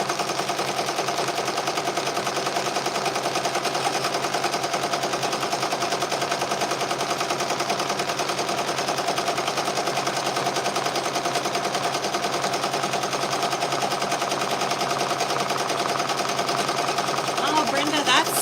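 An embroidery machine stitches the outline of a banana-man design, its steady rapid needle hammering running continuously and close throughout, with a busy, noisy room tone behind it.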